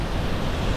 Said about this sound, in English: Lucky for me, this part still is a waterfall.